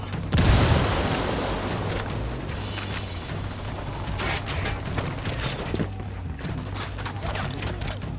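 Grenade blast in the shooter Ghost Recon Wildlands: a loud burst near the start with a deep boom, then a rumbling decay under scattered mechanical clatter, creaks and sharp impacts, with a low steady drone running throughout.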